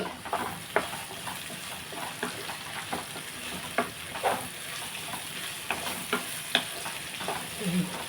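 Vegetables, ivy gourd with raw mango, being stirred in a hot pan, with a steady sizzle of frying broken by regular scraping strokes of the spoon, close and fairly loud, with no speech.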